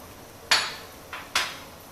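Two sharp metallic clanks, one softer then one louder, of a lid set on a pot in a quiet kitchen.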